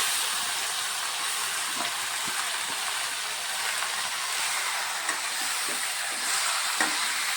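Chicken pieces frying with onion and tomato in a pan for a Bengali chicken curry, a steady close sizzle all the way through, with a few stirring scrapes and clinks.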